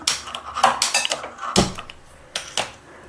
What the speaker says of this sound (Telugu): బాండలు పెట్టి ఆయిల్ వేస్తున్నాను.